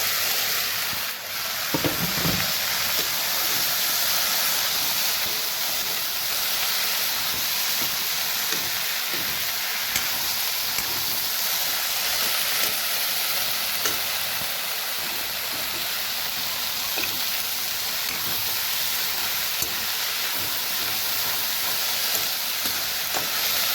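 Taro flower, jackfruit seeds and potatoes frying together in a pan for an Assamese dish, a steady loud sizzle running the whole time with occasional stirring scrapes, no talking.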